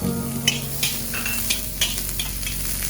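Oil, onions and garlic stir-fry in a well-heated saucepan with a constant close sizzle, broken by regular scraping strokes of a utensil against the pan.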